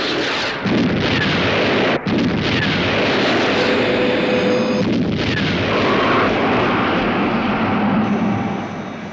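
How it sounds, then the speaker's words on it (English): A missile launches with a loud, close roar: a dense blast of rushing, rumbling noise that carries on for several seconds, broken by brief dips, with a whooshing edge as it fades toward the end. "Missile launch,"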